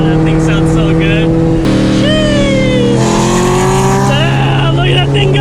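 A Corvette race car's engine roars loudly and revs through the gears at a drag-racing event, with rising and falling engine tones and possible tire squeal, while people talk and shout over it.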